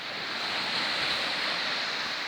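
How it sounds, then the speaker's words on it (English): Sea waves wash against the cliffs at Covehithe at night with the tide fully in, a steady, loud roar of surf mixed with wind, continuous and unbroken. "There's the waves."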